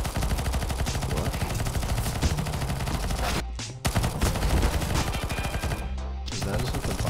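A PP-Bizon submachine gun in CS:GO fires long, fast automatic bursts, loud and close, rattling almost without pause and cutting off briefly twice between strings of shots.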